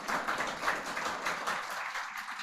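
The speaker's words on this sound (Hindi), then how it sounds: "बहुत पहले ताली बजाइए।" Audience at a coaching academy's success celebration clapping in a continuous, dense wash of applause that fades slightly toward the end.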